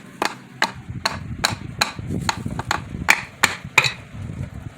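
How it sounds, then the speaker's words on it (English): A brass hammer knocks on a Hyundai Tiburon, Elantra or Accent transmission part in a series of about a dozen sharp metallic taps, close and loud, over low background shuffling. "Use a brass hammer so you don't bust anything"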